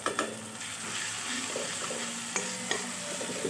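Pav bhaji masala being stirred into a frying mixture in a pan, a steady sizzle with scraping spoon strokes and a few sharp clinks against the pan throughout.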